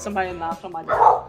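A dog barks a few times close by, short yips and whimpering barks, while a voice talks over them.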